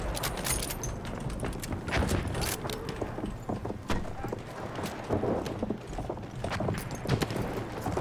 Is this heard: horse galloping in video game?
yes